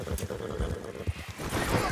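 A horse in a video game whinnies and its hooves clop in uneven, rumbling steps, close and moderately loud, with the neigh standing out over the hoofbeats.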